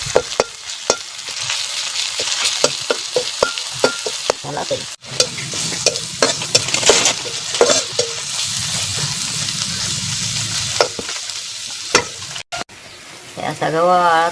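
Onion is roasted in a pan and stirred until golden, a loud sizzle broken up by repeated scraping strokes and clatter. There are a few short dropouts and a brief warbling tone near the end.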